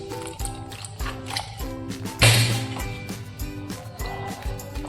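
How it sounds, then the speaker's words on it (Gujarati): Water is poured into a chutney with turmeric being made for Khambhat-style khadkhadiya, giving a brief wet splash and squishing sound under steady background music. "પાણી નાખીશું."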